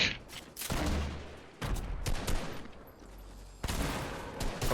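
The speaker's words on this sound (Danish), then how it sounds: "nu bliver Ruben skudt fra flere vinkler" Bursts of gunfire in the Fortnite video game, several rapid volleys from multiple directions separated by short gaps, loud and close with heavy low-end thumps.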